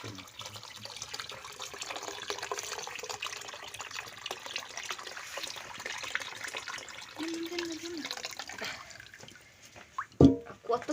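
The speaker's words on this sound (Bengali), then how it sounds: "পাতিল রস আমি কিছুটা ছেঁকে দিয়েছি, আর কিছুটা দিচ্ছি।" Date palm sap, the first tapping of the season, is poured and strained into a pot in a village kitchen: a steady close trickle and splash of liquid, ending in a few sharp knocks against the pot.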